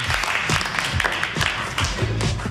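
A studio audience applauding steadily at a talk show, a dense wash of clapping hands filling the room throughout.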